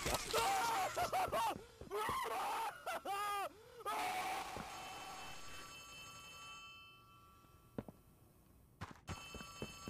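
A telephone rings in the horror video game CatNap, a bright repeating electronic ring in bursts over busy game audio, fading out partway through and leaving quieter background noise.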